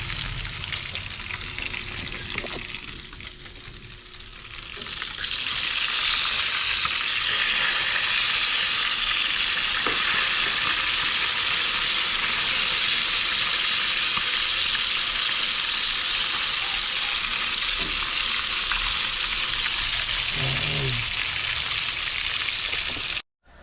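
Loud, steady sizzling of five tilapia frying in hot oil in a pan, a dense crackling hiss that swells after a few seconds and holds, with occasional clinks of a utensil.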